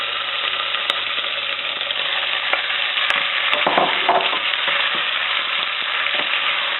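Pork hits a hot pan with green pepper and sliced onion, giving a loud, continuous sizzle up close, with stirring scrapes and a few sharp clinks along the way.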